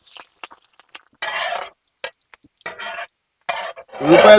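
Green chillies and onions fry in oil, heard as intermittent bursts of sizzling and spattering, each lasting under a second with silent gaps between, ending in a louder, sustained sizzle close by.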